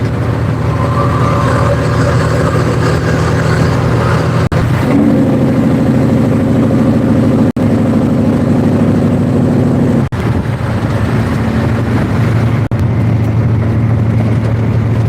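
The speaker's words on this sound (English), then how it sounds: "the Jakes on this truck are really loud" A semi truck's heavy diesel engine rumbles loudly and steadily, with deep low-pitched chugging and shifts in tone as the loud Jake brake engages and gears change, close by.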